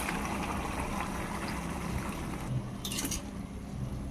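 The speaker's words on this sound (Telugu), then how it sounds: "ఇప్పుడు 1 గ్లాస్ వాటర్ పోసుకుందాం." A glass of water is poured into a pan of chicken and potato curry, a short splashing gush near the end over a steady low background hiss.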